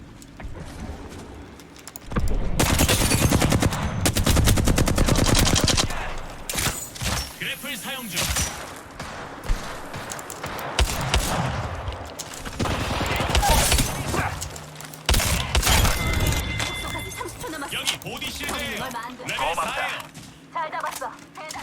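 Rapid automatic gunfire from the battle royale shooter Apex Legends, loud sustained bursts with short pauses and scattered single shots, over game sound effects and player voices.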